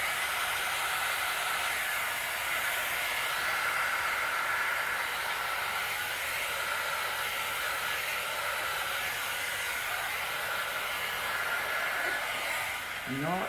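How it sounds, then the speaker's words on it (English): A hair dryer blows steadily across poured acrylic paint in a dirty bloom pour, a continuous airy whoosh held at constant strength for the full length, close by and uninterrupted. "Back to the hairdryer we go."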